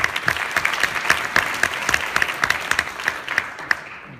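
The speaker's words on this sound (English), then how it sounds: "So let's give it a big applause to everybody working to make it happen." Gala audience at the Akshaya Patra Houston fundraiser breaking into applause, a dense, even spread of clapping from a large crowd that carries on for several seconds before fading out at the end.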